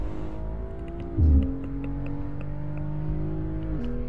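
A loud race car engine in the video game Assetto Corsa drones steadily at high pitch on a track, with a brief low thump partway through and the tone shifting as it revs.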